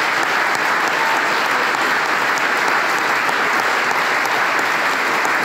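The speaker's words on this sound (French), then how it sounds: "je voudrais qu'on applaudisse chaleureusement" Audience at a Laurent Wauquiez political speech in Valence applauding warmly, a dense steady wall of clapping that stays even and loud throughout.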